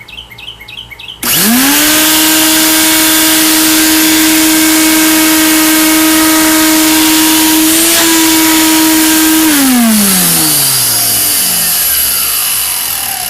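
A loud 16-gallon shop wet/dry vacuum, just repaired, whines into life after a brief moment of quiet, holding a steady high-pitched roar before its motor winds down toward the end.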